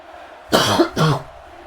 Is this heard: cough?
yes